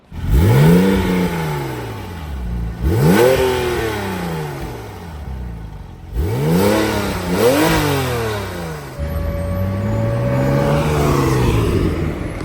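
A Porsche 911 Turbo (996) accelerates hard along a twisty road, its engine revving up loudly in four successive rising pulls separated by brief gear changes, heard close from inside the car.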